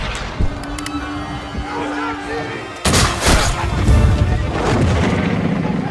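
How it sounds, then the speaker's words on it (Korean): A deep boom at about three seconds, followed by a rolling barrage of heavy blasts from a sailing warship's cannons. Earlier, a voice speaks over a steady background hum. "포격이 시작됩니다."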